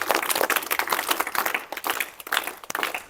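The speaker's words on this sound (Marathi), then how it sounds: "सर्व शाळातील क्रीडा शिक्षकांचं आपण टाळ्या वाजून अभिनंदन केलं पाहिजे" Audience at a village primary school sports-achievement event in Malwadi clapping for the sports teachers and champions: dense, steady applause from many hands lasting a few seconds, with no voices over it.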